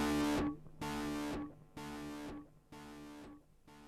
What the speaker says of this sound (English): the delay repeats the overdriven signal again and again